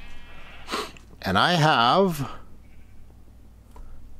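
Sheep in the Minecraft video game bleat once in a loud, wavering cry after a brief voice, with a quieter bleat just before and faint game ambience after.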